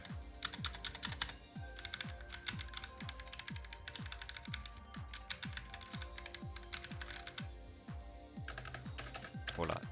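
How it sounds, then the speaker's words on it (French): Rapid, clicky keystrokes on a Roccat Vulcan TKL mechanical keyboard, a steady stream of close, crisp taps with occasional heavier key presses. "nous allons pouvoir procéder à un petit test du son des touches"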